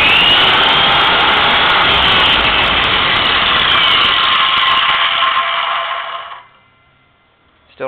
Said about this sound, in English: Circular saw.